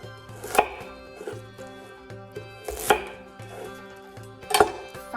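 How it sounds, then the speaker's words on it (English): Onions being finely chopped with a knife on a cutting board for Armenian lahmajun: steady repeated blade thuds with a few heavier strikes, close and clear with no talk. "We're gonna start off with the onions."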